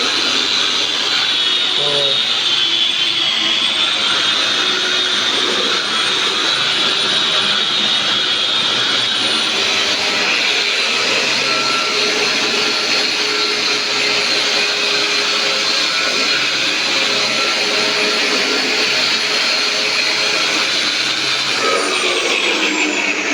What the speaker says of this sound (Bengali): আমি মেশিন দিয়ে কাজ করব ওয়াল ঘষবো